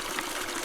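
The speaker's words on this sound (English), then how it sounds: "if you're in an area like this where there is, as you can hear, flowing water" Water flows steadily outdoors in a continuous, fairly loud broadband rush with no pauses, consistent through the short span and with no voices present.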